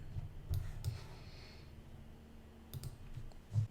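Faint, close computer clicks come in small clusters, a few sharp taps near the start and again toward the end, with quiet room tone between them.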